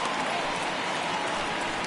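Steady rain pouring down over a ballpark in MLB The Show 19 during a Yankees vs. Red Sox game, a dense continuous hiss with no break or change.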